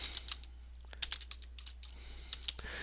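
Keys click on a computer keyboard as a short blog summary is typed, light irregular taps close by and faint over a low steady hum, with no speech.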